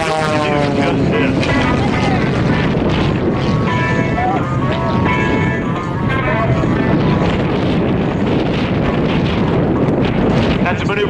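A custom-built aerobatic plane performs at a Texas air show, its propeller engine droning loudly and continuously with shifting pitch through the maneuvers, mixed with wind buffeting and a commentator's voice over the public address.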